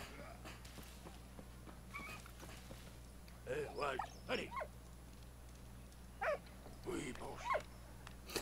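A dog in the World War video game Valiant Hearts gives short whimpers, yips and barks in several bursts over quiet background ambience.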